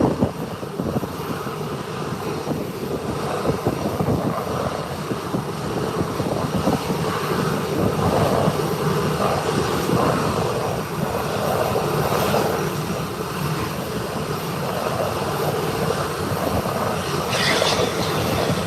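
Jet airliner landing at Howard Hamilton International Airport and rolling toward the southern parking ramp, a steady broad engine roar held close and loud for the whole stretch, with no talking over it.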